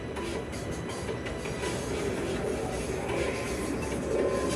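Animated train running, a continuous rumbling roll with faint rhythmic clatter and occasional squealing, steady and fairly loud throughout.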